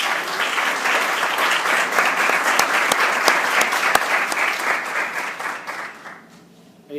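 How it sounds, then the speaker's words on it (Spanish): An audience at a film talk at SANFIC, the Santiago film festival, applauds director Laurent Cantet with sustained, dense clapping that holds steady for several seconds and then fades out near the end. "yo quiero darle un fuerte aplauso a Laurent Cantet,"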